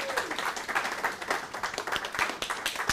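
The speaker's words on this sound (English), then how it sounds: "Just give these guys a round of applause for doing the exercise." Seminar audience claps for participants who just finished an exercise, a fairly loud patter of hands with distinct individual claps, steady for about three seconds.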